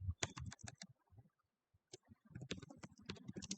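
Quick bursts of keystrokes clatter on a computer keyboard, two clusters of close, crisp clicks separated by a short pause.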